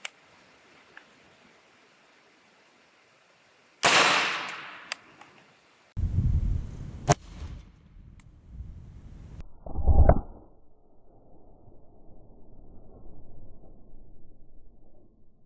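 A suppressed 300 Blackout rifle fires Hornady Black ammunition into a gel block outdoors, giving a sharp, loud report followed by a second impact-like burst and some rustling handling noise, with no talking.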